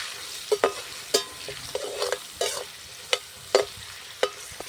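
Papaya pieces frying in oil with turmeric and salt are stirred in a pan, giving a steady sizzle broken by about eight sharp scraping clinks of the spatula at irregular intervals.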